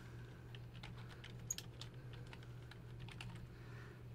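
Someone types on a computer keyboard, with a steady run of quiet, close key clicks over a low electrical hum and no speech.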